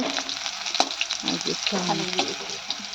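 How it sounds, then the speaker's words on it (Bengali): Bitter gourd pieces fry in oil with a bright hiss and crackle, punctuated by spatula stirs and clinks up close. "তো করলাগুলো একটু ভেজে নেব"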